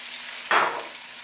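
Papaya pieces drop into a pot of simmering Filipino mussel soup, giving one brief splash and sizzle over a steady bubbling hiss.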